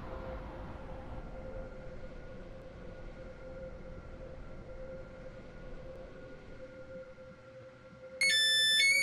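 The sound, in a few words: train at station in video game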